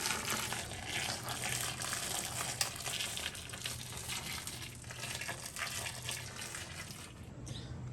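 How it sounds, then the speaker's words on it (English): Running cool water pours steadily into a kitchen sink for cooling scalded tomatoes, a soft continuous splashing hiss, close but quiet, with no talking. "I just filled the sink up with cool water after I scalded them"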